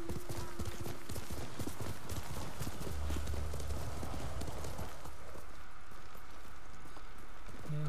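Rapid hoofbeats of a horse galloping in the video game Ghost of Tsushima, a steady clip-clop rhythm with an occasional snort, fairly loud and continuous over a low rumbling background.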